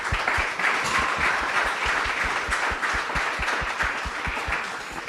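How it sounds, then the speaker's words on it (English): An audience applauds steadily, a dense crowd of claps at moderate volume without a break. "I'm going to ask for a round of applause."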